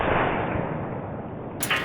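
A single sharp report from an Airgun Technology NETVOR .457 PCP air rifle fitted with a muzzle brake, a loud close blast with a brief decaying tail, followed by a fainter crack near the end.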